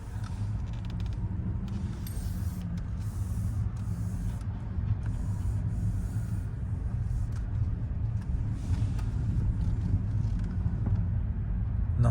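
A 2021 Toyota Yaris Hybrid cruising in EV mode gives a steady low road rumble with faint creaks and tyre noise heard from inside the cabin, no engine note rising above it.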